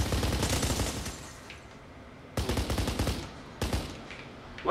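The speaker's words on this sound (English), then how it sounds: "Why are they shooting at us?" Bursts of automatic gunfire in the Kane and Lynch video game, a long rattling volley followed by two shorter sharp bursts separated by brief lulls, with no talking.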